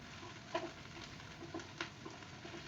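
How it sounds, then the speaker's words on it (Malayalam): Bread masala being stirred in a frying pan with chopped coriander leaves just added; faint soft scraping and light sizzling with a few brief clinks of the spoon, no talking. "ഇളക്കി കൊടുക്കുക."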